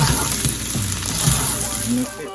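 Steady frying sizzle with loud, dense hiss throughout, some low clattering underneath, as shrimp fried rice crackles hard in a hot wok.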